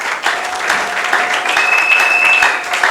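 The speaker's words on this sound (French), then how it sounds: "Acclamez pour la gloire de notre Dieu." A church congregation breaks into loud, sustained applause, a dense wash of clapping hands that carries on throughout with a faint tone ringing in the background.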